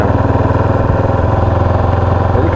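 A motorcycle engine idling and pulling lightly under gentle throttle while a learner rider eases the clutch, a steady close low thrum with a fast even pulse throughout.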